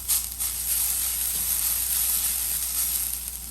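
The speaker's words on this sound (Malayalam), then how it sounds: "ഒരു പാൻ അടുപ്പത്ത് വെച്ച് അത് ചൂടായി കഴിയുമ്പോഴത്തേക്ക് നമുക്ക് അതിലേക്ക് തേങ്ങ ഇട്ട് കൊടുക്കാം" Grated coconut roasting in a hot pan, a steady, close sizzling hiss that holds evenly throughout with no talking.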